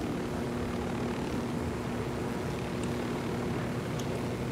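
A helicopter flies in the video game Ghost Recon Wildlands, making a steady, loud rotor and engine drone with a constant hum that runs unbroken through the whole stretch.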